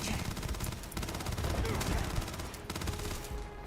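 Rapid bursts of gunfire from the sci-fi video game Starfield, dense overlapping shots forming a loud continuous fusillade for the whole stretch, with a voice faintly present underneath.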